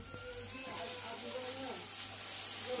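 Fish frying in hot oil in a home kitchen, giving a steady hissing sizzle throughout while someone talks over it.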